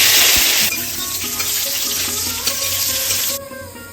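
Potatoes dropped into hot oil over cumin seeds in a pan, frying with a loud, steady hiss and sputter throughout, close up and alone, while cooking a Bengali cauliflower and potato fish curry.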